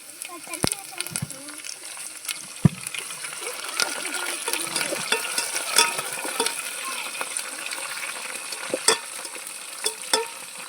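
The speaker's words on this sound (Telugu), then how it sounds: "ఇప్పుడు కరివేపాకు వేస్తున్నాను" Curry leaves crackle and sizzle in hot oil in a pan for an okra and dried fish curry, with steady frying hiss, sharp spitting pops and the scrape of stirring throughout.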